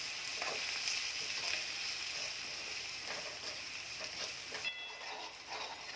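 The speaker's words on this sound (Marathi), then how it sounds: "त्यामध्ये मी हे घेतलेला सर्व मसाला टाकत आहे आणि तो आता मिक्स करून घेत आहे कांद्यामध्ये" Masala being stirred into frying onions in a pan while making chole, with a continuous soft sizzle and occasional scraping strokes of a spoon, close but fairly quiet and without speech.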